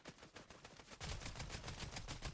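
Fortnite gunfire, a rapid burst of shots that grows louder and denser halfway through, fairly quiet overall with no talking.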